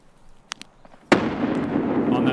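Grenade exploding in the shooter game Escape From Tarkov, a few faint clicks and pops followed by a sudden loud blast that rumbles and decays into a long roar.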